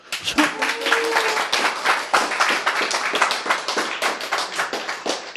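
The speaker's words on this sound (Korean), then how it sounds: "박수" An audience at a lecture claps together in a loud, rapid burst of hand claps that lasts for several seconds at close range.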